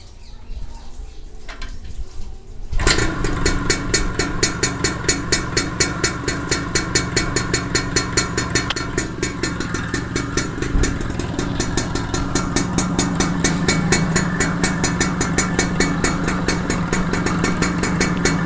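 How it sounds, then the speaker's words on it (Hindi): A TVS XL Super heavy-duty moped engine, being set up for carburettor tuning, fires up after a few quiet seconds and then idles loudly and close by, with a fast, even putter that holds steady. "तो चलिए दोस्तों, सबसे पहले हम इसे स्टार्ट कर लेते हैं।"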